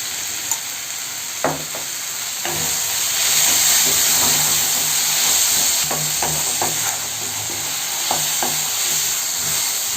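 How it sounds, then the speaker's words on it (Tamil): Tomatoes sauté in a pan for pepper chicken gravy, a steady close sizzle and steam hiss broken by occasional scrapes and stirring knocks of a spoon. "இப்போ இந்த தக்காளி வதங்கிறதுக்கு நம்ம கொஞ்சமாக உப்பு சேர்க்கலாம்."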